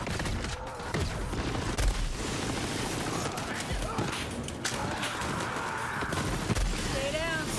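A laser SMG fires in Borderlands 3, with rapid repeated bursts of shots throughout, punctuated by heavier thumps and surrounded by chaotic combat noise.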